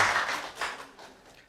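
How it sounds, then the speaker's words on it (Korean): A church congregation applauds to welcome a new member, a brief, soft patter of clapping from a gathered crowd that fades out quickly. "우리 환영의 박수 해드리겠습니다"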